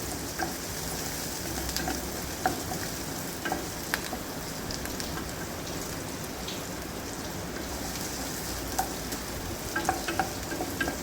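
Onions and green chillies for a fish curry sizzle and crackle steadily in hot oil, with occasional sharp clicks of a spoon stirring the pan, continuous and close.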